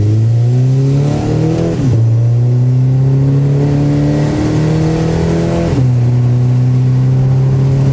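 A Scion FR-S with an automatic transmission and aftermarket exhaust accelerates at half throttle, its engine note rising in a loud, close drone that drops sharply at each of several upshifts near 4,500 rpm.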